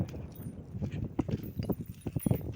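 Cattle being driven along on a farm, hooves thudding irregularly on the ground in a loose walking rhythm, close by, with a faint background murmur.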